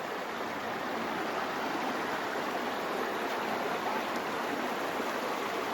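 A river rushes over large rocks at Bagong Tuklas in Subic, a steady, close, broadband flow of water with no talk.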